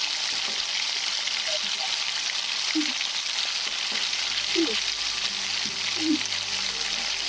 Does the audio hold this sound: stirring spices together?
yes